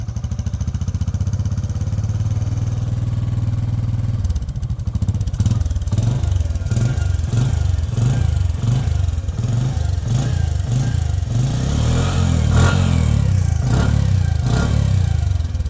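A Bajaj CT 100 motorcycle engine with its original silencer idles loudly, then is revved repeatedly in a series of rising and falling bursts, growing louder and rougher near the end.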